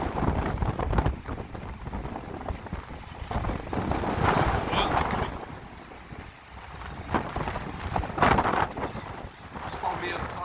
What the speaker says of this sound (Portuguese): Essa foi uma rajada forte agora, hein?